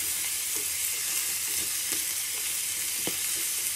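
Vegetables sizzle and fry steadily in a pan for broccoli with chicken liver, with carrot and garlic in the mix, a dense continuous crackle with a few soft stirring clinks, no talking.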